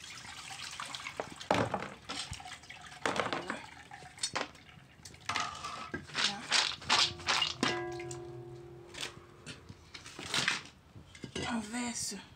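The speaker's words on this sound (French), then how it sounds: "Nous allons ajouter encore un peu de l'eau tiède. On verse toujours l'eau sur les grains." Warm water poured over baobab seeds in a pot during juice making over a wood fire, with splashing, sloshing and clinking of metal utensils up close while people talk.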